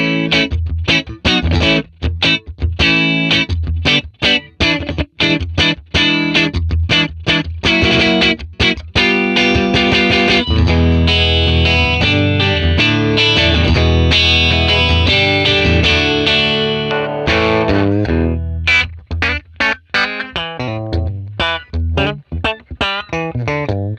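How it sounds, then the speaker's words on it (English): A Les Paul in the in-between pickup position plays through a 1957 Tweed Bassman amp model on a clean bright setting with reverb off, strumming loud, steady chords and single notes with sustained ringing stretches and short breaks. "let's try the clean bright setting first with reverb off, and let's try the in-between position with the Les Paul"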